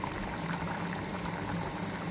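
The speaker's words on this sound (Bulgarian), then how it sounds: "течността вече намалява и започва много да пръска" Water and butter boil hard in a pot of Popska stew on a stovetop, giving a steady close bubbling with busy spattering crackle and no talk over it.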